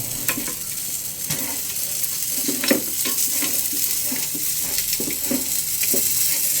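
Milkfish (bangus) turned over while frying in a pan, a steady close sizzle with repeated spatula scrapes and knocks against the pan, no talking.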